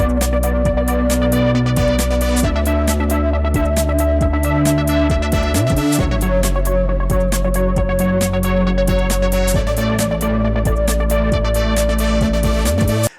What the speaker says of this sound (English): using it to create a bass, lead, and ARP sound for a future bass inspired track